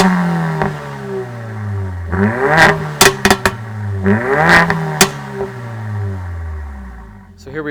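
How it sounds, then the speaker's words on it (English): A 2018 Mercedes-Benz CLA 45 AMG with a turbocharged engine and performance exhaust revs repeatedly, loud close-up blips rising and falling, with sharp exhaust crackles and pops between the revs. "One of my favorite things about this car is actually the exhaust note."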